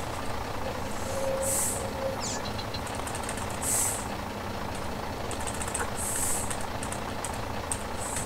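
A truck sits idling beside a Barko log loader with a new buck saw, its steady low engine drone running continuously, with a few brief high hissing bursts on top and no talk.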